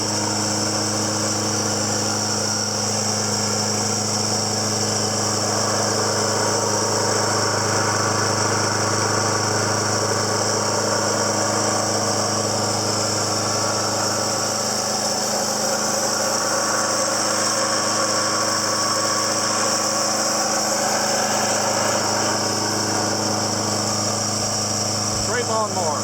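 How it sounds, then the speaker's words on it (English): Snapper Big 6 Ninja electric-start 21-inch walk-behind lawn mower engine running continuously, a steady droning hum with strong tonal whine, loud and close for the whole stretch with no break. "Great lawnmower."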